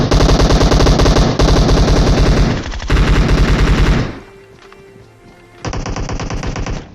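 Video game enemy gunfire fills the clip: loud, rapid machine-gun bursts rattle for about four seconds, stop briefly, then another sustained burst follows, with no talking.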